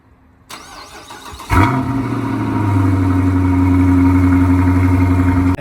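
A Dodge Challenger fires up by remote start: a brief click, then the engine cranks and catches with a loud burst before settling into a steady, close rumbling idle.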